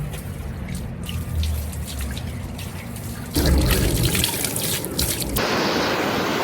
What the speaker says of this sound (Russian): Все, поднялись до источника воды.